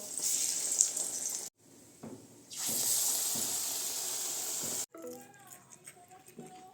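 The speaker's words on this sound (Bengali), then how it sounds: "এখানে ভেজে নিচ্ছি একটু গরম গরম বেগুনি" Eggplant fritters (beguni), sliced into rounds, fry in hot oil with a steady bright sizzle that cuts out briefly and then returns. A voice talks near the end.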